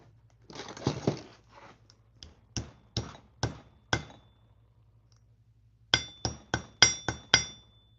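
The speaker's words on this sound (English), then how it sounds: "let me hammer this out a little bit" Metal hammer blows strike a small object in a room: a cluster of clinks, then a spaced series of sharp taps, a pause, and a faster run of five or six ringing hits, close and clear with no talk.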